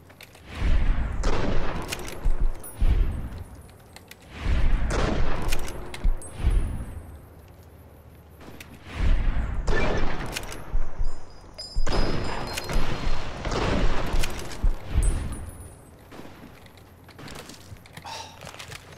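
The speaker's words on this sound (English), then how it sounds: "I wanted to shoot stupid New Vegas." Gunfire in the video game Fallout: New Vegas comes in repeated loud bursts of shots and booms, separated by brief quieter gaps.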